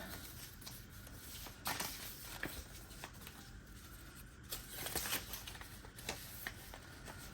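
Playing cards being shuffled and mixed by hand at a table: quiet, papery rustles and brief riffling bursts, spaced irregularly, with no speech.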